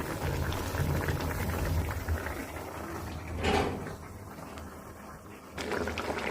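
Hilsa fish goes into a pot of ash gourd curry simmering on the stove: a steady bubbling hiss, a brief soft splash and rustle midway, and a few light kitchen knocks, with no voices.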